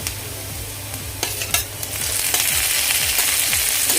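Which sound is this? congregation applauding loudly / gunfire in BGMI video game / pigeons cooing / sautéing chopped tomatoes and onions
sautéing chopped tomatoes and onions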